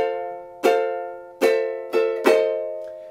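An F bar chord rings out on a ukulele in four bright strums, the last two closer together, each chord sustaining and fading before the next, with no voices.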